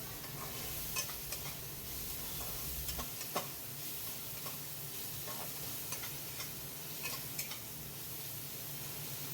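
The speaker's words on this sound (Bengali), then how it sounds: "পেঁয়াজটাকে আমি বেশ কিছুক্ষণ ধরেই তেলে নাড়াচাড়া করে নিয়েছি।" Onion stirring and sizzling in hot oil in a pan, a steady bubbling fry with soft scraping strokes and light clicks of the utensil.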